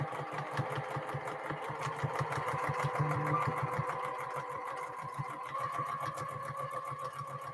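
A sewing machine stitches a quilted tote bag with a steady, rapid mechanical clatter and motor whir, running continuously at close range with no talk.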